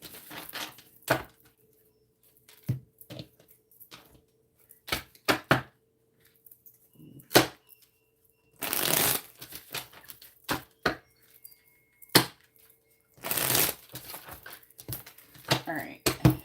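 Tarot cards are shuffled by hand in two short, loud riffling bursts, surrounded by scattered clicks and taps in an otherwise quiet room.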